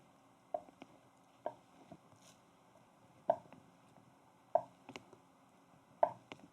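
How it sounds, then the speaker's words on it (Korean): A knife cuts a 400 g block of tofu into small pieces in a home kitchen, giving five soft, separate chopping knocks spaced about a second apart, fairly quiet against a low background hum. "두부 400g인데 약간 작은 사이즈로 자르겠습니다"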